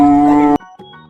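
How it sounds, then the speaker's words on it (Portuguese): A cow moos in a single loud, drawn-out call lasting about half a second, its harmonic tone cut off abruptly and followed by faint trailing noises. "Vaca."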